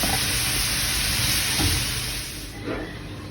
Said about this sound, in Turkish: Böyle zeytin yanında kavuracağım.